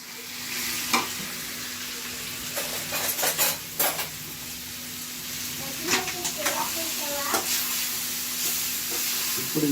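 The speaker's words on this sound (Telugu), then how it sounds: "ఇప్పుడు ఈ చికెన్ మనం ఇందాక బాగా ఫ్రై చేసుకున్న ఉల్లిపాయ మిశ్రమంతో బాగా కలపాలండి" Chicken stirred into a fried onion mixture in a sizzling pan, with repeated scraping and clinking of a spoon against the metal over a constant fry.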